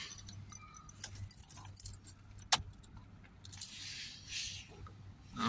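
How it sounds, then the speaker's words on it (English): An ignition key is turned off in a Mercedes C Class, a 2.1 diesel with a particle filter fault, giving a brief jangle of keys and a soft click in a quiet car cabin. "And we'll switch off the ignition"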